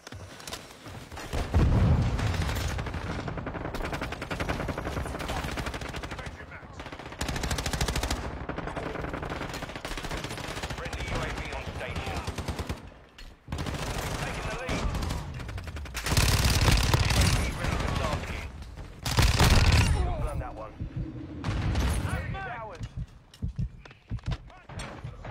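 Rapid automatic gunfire and bursts of shots in a multiplayer shooter video game, dense and continuous for the whole stretch, loud and close with game effects layered underneath.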